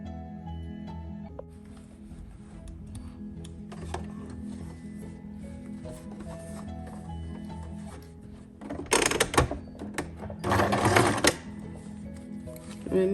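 A sewing machine stitches fabric for a scrunchie. A low background hum and light rubbing sounds lead into two loud, rapid mechanical stitching bursts near the end.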